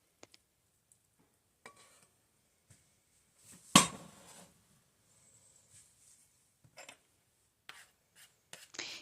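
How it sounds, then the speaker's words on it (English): A spatula scrapes cooked kung pao bacon off onto a plate in a few faint, scattered rubs, with one brief, fuller scrape near the middle. "just scraping everything off the spatula so nothing's left behind"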